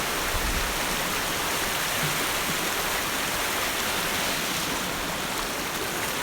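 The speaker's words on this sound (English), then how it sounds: "it offers some spectacular tent camping with the sound of those streams" Streams flowing near Antietam Shelter on a hiking trail after heavy rainfall, a steady broadband rush of running water that stays close and even throughout with no voices.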